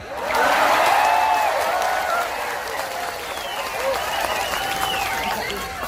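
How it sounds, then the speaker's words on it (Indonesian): Loud crowd applause with cheering from a religious lecture audience in Taiwan, a sustained wash of clapping that stays strong for several seconds with overlapping shouts. "yang terakhir harus kenceng tepuk tangannya"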